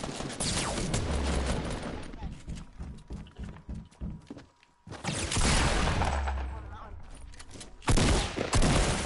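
Bursts of video game gunfire in a squad battle royale match, loud volleys around the start, middle and end with scattered shots between, over a busy game soundscape.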